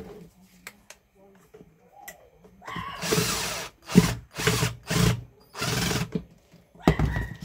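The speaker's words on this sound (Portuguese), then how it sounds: "Agora a gente vai parafusar" A power screwdriver drives screws fastening clamps onto an electric pressure cooker, in several short loud whirring bursts separated by pauses, with faint handling sounds between.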